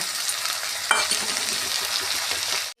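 Sliced onions sizzle steadily in hot oil in a pan after ginger-garlic paste goes in, a dense close frying hiss with stirring scrapes for a ghugni recipe, cutting off abruptly at the end.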